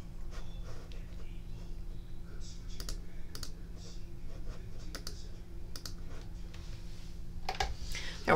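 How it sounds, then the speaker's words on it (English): An electronic cutting machine scores and cuts card stock for a slider box, giving a steady low motor hum with sharp, irregularly spaced clicks and taps from the carriage as it moves. No one speaks. "We are cutting, or scoring, and then cutting."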